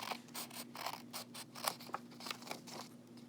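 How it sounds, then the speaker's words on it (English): Scissors cutting along a fold, a quiet series of short, closely spaced snips made in small cuts rather than one long stroke, heard up close without talk. "you want to cut off the fold between the 2 lines you made"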